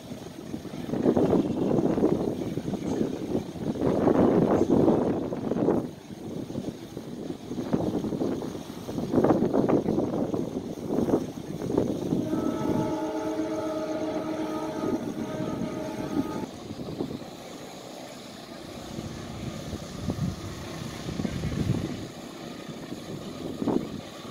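An Indonesian train passes at full throttle near Sumber Ngingas, its rumble rising and falling in waves over wind noise, with a sustained horn blast partway through.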